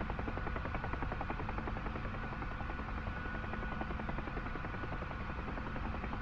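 A helicopter in the X-Plane 11 flight simulator drones steadily with a rapid rotor chop and a constant engine whine, loud and unbroken with no talking.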